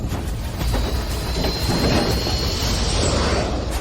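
Thunder rumbles around a plane caught in a thunderstorm layer in a drama, a heavy low roll sustained for several seconds with a faint high whine above it, loud and close with no voices.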